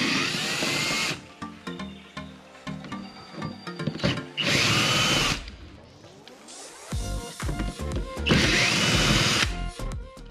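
Cordless power drill backing screws out of a C7 Corvette front bumper, with several loud bursts of whirring, each a few seconds long, separated by quieter handling and rattling of parts.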